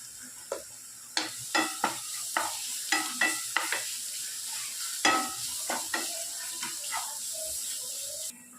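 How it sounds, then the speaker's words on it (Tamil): Ridge gourd stir-fried in oil with pepper, cumin, ginger and garlic, heard as soft sizzling and repeated spatula scrapes and stirs against the pan in an irregular rhythm. "நல்லா ஒன்றா போட்டு நல்லா எண்ணெயில் வதக்கிடுங்க."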